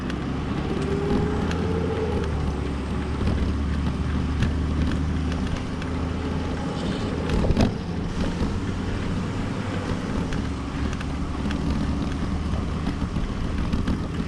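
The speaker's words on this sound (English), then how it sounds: "Garbage truck coming." A garbage truck approaches along a road in the Lower Florida Keys, its steady low engine rumble loud and continuous beside a bike trail, with wind buffeting the microphone throughout.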